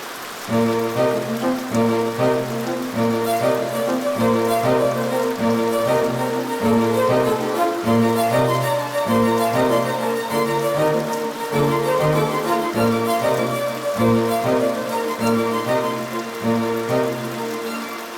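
Steady rain falls over a hillside in a dubbed South Indian romantic film scene, a continuous loud wash that lasts the whole stretch beneath a prominent rhythmic musical score.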